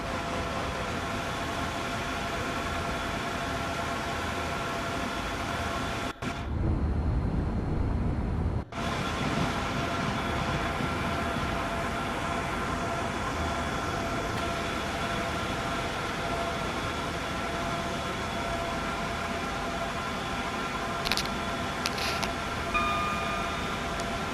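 An Avanti West Coast train rolls on in Train Sim World 5, a steady broadband rumble and hiss of wheels and motors that holds level throughout, with a short muffled dip partway through.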